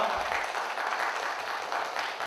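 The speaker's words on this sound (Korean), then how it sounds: "여러분 큰 박수 부탁드립니다" Audience applause at a Korean history talk concert on the anti-Japanese independence movement, a continuous wash of clapping from a seated crowd welcoming a guest speaker, steady and moderately loud throughout.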